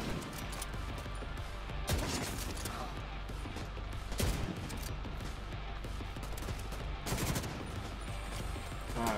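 Gunfire in the shooter video game The Division 2: loud, close bursts of rapid shots and repeated automatic volleys with mechanical clatter, filling the scene almost continuously with brief gaps between salvos.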